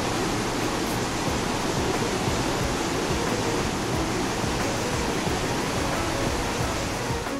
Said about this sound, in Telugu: జలజల జారుతున్న నీటి సవ్వడి వినసొంపుగా ఉంది.